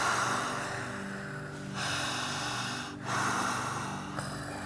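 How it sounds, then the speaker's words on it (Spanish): Deep, forceful breaths drawn and pushed out through the mouth by a person under hypnosis, three long loud breaths with brief pauses between them, close and alone. "Siga respirando"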